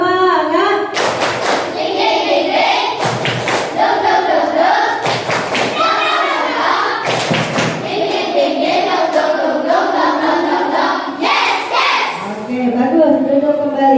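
Children in an Indonesian classroom perform a rhythmic spirit clap, loud unison claps and thumps in short bursts over a few seconds, mixed with a teacher and kids talking and chanting throughout.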